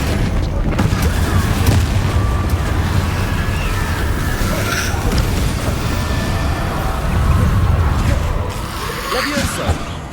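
Explosive spell blasts in the Hogwarts Legacy video game give heavy, continuous booming rumbles layered with game effects, loud and dense, while a voice shouts over them.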